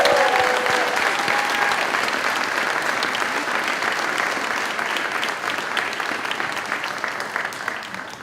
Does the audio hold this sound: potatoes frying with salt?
no